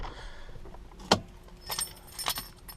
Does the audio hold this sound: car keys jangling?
yes